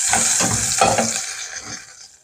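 Garlic, ginger and tomato sautéing in hot oil for a mussel dish, a busy close sizzle broken by several scraping stirs in the first second, then easing and fading toward the end.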